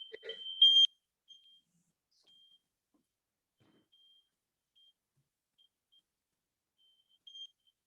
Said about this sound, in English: it was an alarm